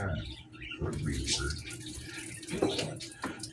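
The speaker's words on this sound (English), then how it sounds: "I actually think I'm going to drain the green beans." Liquid draining from canned green beans into a sink, a close, continuous splashing pour of water with a few louder spatters, while someone speaks briefly.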